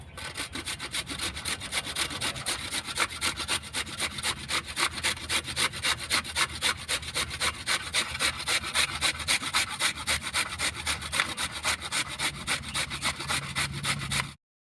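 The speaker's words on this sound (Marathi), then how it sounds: "आणि आता याचा किस करून घेते" Fresh red carrots are rubbed against a metal grater for halwa, giving a steady, rhythmic rasping of quick even strokes, close and alone throughout.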